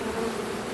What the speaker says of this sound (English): Forager bees fly back home.